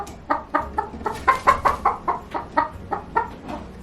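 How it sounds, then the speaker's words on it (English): A broody hen on a farm gives a steady run of about a dozen short, close clucks in an even rhythm, with no one speaking. "This hen is now very confused where all of her eggs went."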